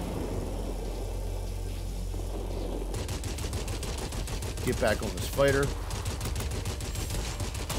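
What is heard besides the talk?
aircraft cannon fire in World of Warplanes video game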